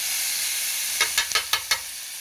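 Steaks cooking on a skillet at a cabin, a steady loud sizzling hiss with a few sharper crackling pops toward the end, no one speaking.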